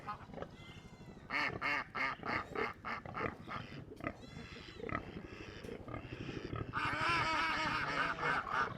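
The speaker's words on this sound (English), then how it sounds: "There's two different groups of ducks." Loud, close chorus of duck quacking, continuous and overlapping, with harsh honking calls from many birds at once.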